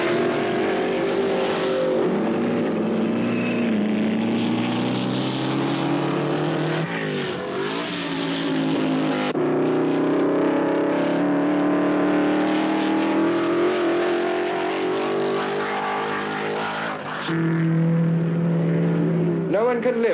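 1955 Formula 1 race cars at the British Grand Prix, Moss and Fangio screaming past the pits, a sustained loud engine roar with shifting pitch that swells and fades through the clip, with a commentator talking over it.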